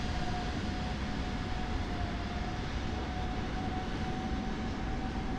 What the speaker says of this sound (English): I can hear another jet behind me somewhere.